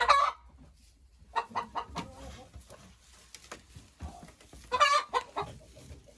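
Hens cluck in a henhouse during egg collection, with short bursts of calls from several birds up close, separated by quieter pauses and some rustling.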